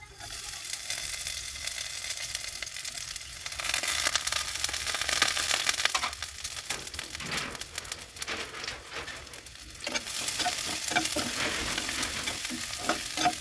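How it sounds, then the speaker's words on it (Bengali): Chopped onions hit hot oil in a pan and give off a loud, dense, steady sizzle that crackles like rain, swelling and dipping slightly as they are stirred. "তেল দিয়ে দিয়েছি এখন দিয়ে দেবো পেঁয়াজ কুচি"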